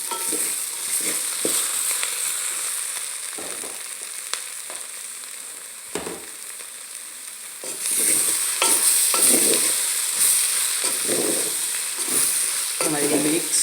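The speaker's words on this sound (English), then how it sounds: "And then I'm gonna put some leeks and also garlic together." Leeks and garlic sizzle while being stirred in a pot for onion soup, a steady frying hiss with repeated scraping stir strokes, growing louder midway, with no talking.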